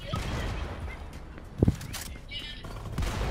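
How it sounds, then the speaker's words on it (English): Gunshots fired at a bird in the video game Fortnite, a short loud burst of two or three quick shots standing out from constant game noise and background chatter. "I'm shooting it."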